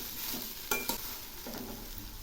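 Sola kochu (taro) pieces frying with turmeric in a pan, stirred with a few quick scraping strokes over a steady low sizzle, close and fairly quiet.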